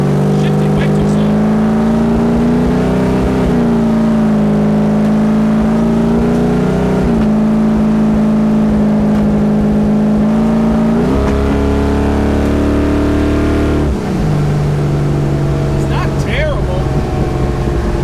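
A scrapped 1972 Buick Skylark takes its first drive on the road. The engine drones loudly and close, and its revs rise and fall through several shifts over the whole stretch.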